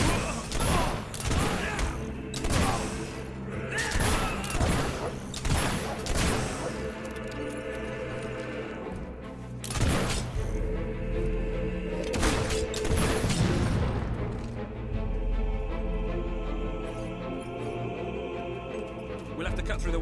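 Fable 3 battle audio carries repeated sharp bangs and thumps of gunfire over a continuous rumble of combat and music, mid-level and steady throughout.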